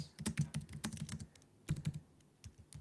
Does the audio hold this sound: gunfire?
no